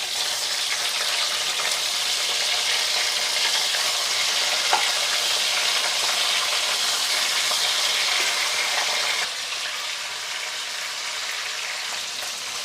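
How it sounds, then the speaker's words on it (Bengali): Fish heads frying in hot oil while being turned over, for a cabbage curry; a steady, close, busy sizzle runs throughout with no talking, easing slightly near the end. "মাথাগুলো বেশ লাল করে উল্টে পাল্টে ভেজে নিচ্ছি।"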